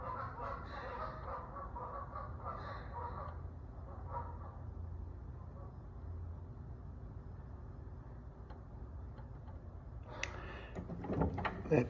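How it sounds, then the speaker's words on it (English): A flock of geese arriving on cue outdoors, their honking calls faint and distant over steady low rumble for most of the stretch, with a louder burst of calls near the end. "And the geese came in right on cue."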